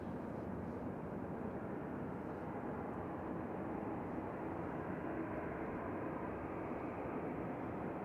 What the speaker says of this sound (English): Just landed, it's an Air France Airbus A220 from Paris